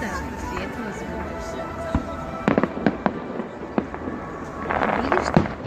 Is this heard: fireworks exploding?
yes